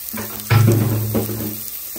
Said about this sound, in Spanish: Me voy a freír un poquito la cebolla.